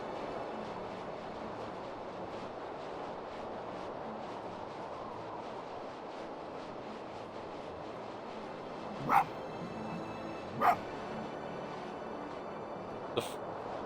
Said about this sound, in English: Also, the bark sound is a lot different.